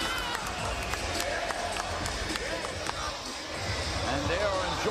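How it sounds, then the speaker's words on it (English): At a Diaz versus Masvidal boxing rematch after eight rounds, an arena crowd gives a steady, broad roar and cheer. Scattered sharp thuds and claps come through the noise while a commentator talks over it. "Crowd appreciative of what they're seeing so far through 8 rounds"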